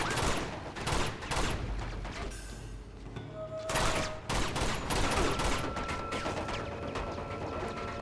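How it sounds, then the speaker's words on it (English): Rapid gunfire bursts from the video game Uncharted 2, loud and dense throughout, with overlapping shots and battle effects forming a continuous barrage with brief lulls. "Was Elena shooting at him?"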